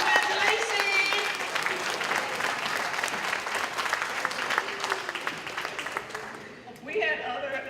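A town hall meeting audience applauds steadily with dense clapping that fades toward the end, followed by a brief burst of cheering.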